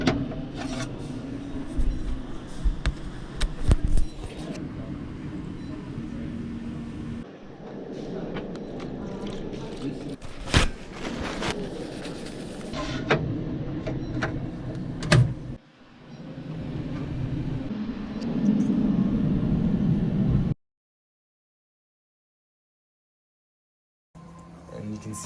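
A printer working through satellite model pieces, a continuous mechanical whir with shifting tones and clicks, close and moderately loud, with a person talking over it before it stops into silence.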